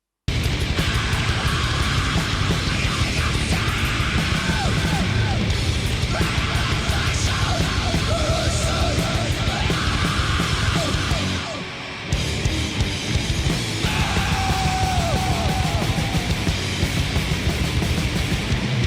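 A black and death metal album track plays as dense, loud, unbroken distorted guitar and pounding drums with harsh vocals, briefly dropping out around the twelve-second mark before the full onslaught resumes.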